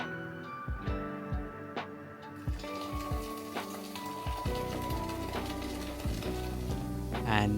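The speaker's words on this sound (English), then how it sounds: "Now I am going to add my beer" Beer poured into a flour and spice batter, then mixed: a steady fizzing, crackling hiss with irregular stirring taps, up close and without speech.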